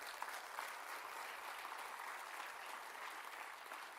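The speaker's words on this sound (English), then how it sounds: "Big applaud to the women of India." An audience at a university day celebration applauds the women of India with an even, continuous wash of clapping, moderately distant and sustained without a break for the full few seconds.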